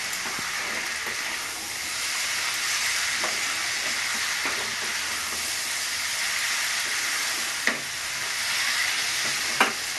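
Raw jackfruit and potato being stir-fried with spices in a pan for a jackfruit-and-prawn curry, a steady sizzling hiss with soft scraping stirs throughout and a couple of sharper clinks near the end.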